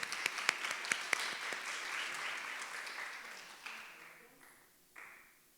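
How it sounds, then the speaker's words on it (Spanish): Audience applause at a podcast event on advertising and public relations begins with a few sharp, distinct claps and swells into a sustained round, then fades out toward the end. "Un aplauso."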